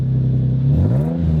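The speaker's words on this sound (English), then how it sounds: "Start her up. And as I mentioned previously, he's messed with the exhaust so it's louder." Nissan 350Z with a modified, louder exhaust starting up: a steady low idle rumble swells into a rising rev partway through, then settles, loud and close with no talk.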